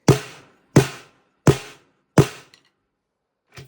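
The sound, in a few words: snare drum being played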